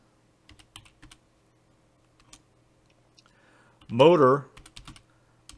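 Someone types a command into a drone flight-controller configurator on a computer keyboard: scattered, irregular key clicks close by, with a brief spoken word in the middle.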